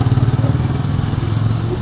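A motorcycle engine runs close by with a steady, loud, low rumbling drone and a slight rhythmic pulse, with no talking over it.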